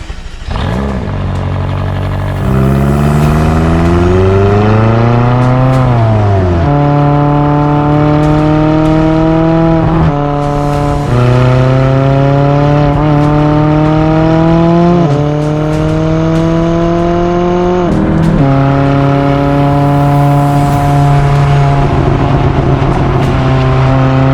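A McLaren 620R's 612-horsepower engine revs hard and loud on the road, climbing through gears with sharp upshifts and roaring acceleration, no talk.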